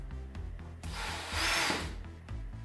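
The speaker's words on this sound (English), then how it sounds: "Just getting set up, pre-drilling our screws." A power drill whirs briefly into wood framing, pre-drilling screw holes, rising to a short grinding burst between quieter clicks and handling noises close by.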